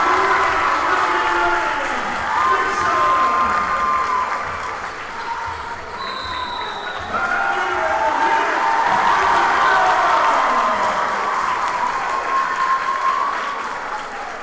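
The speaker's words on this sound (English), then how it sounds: "This crowd's saying it all." Loud, sustained applause and cheering from a home crowd at a boys varsity high school basketball playoff game after a three-pointer. Roaring, dense and continuous throughout, with faint speech mixed in.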